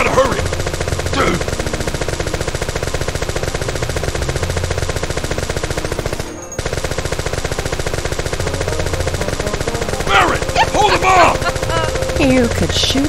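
Final Fantasy VII gunfire: a continuous rapid machine-gun rattle running almost without pause, loud and close, briefly cutting out midway, with a voice speaking near the end.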